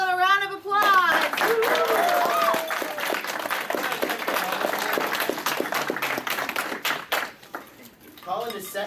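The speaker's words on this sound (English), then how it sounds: "Let's all give Colin a round of applause." A convention audience at Animaine 2018 gives a round of applause, with dense clapping rising after a brief moment of voices and running for several seconds, mixed with scattered crowd chatter, then fading as a voice resumes.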